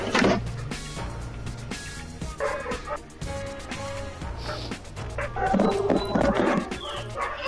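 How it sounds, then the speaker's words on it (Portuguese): Dog barking during a Fortnite game stream, several quick yips and barks in irregular bursts, fairly loud and mixed with game sounds. "Cachorro!"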